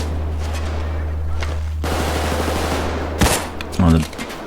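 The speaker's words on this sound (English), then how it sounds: "Sniping these guys. I'm going to give them a grenade to play with there too." Rifle gunfire and a grenade in Payday 2, with scattered sharp shots over a steady low hum, a loud crack about midway and a heavier blast near the end.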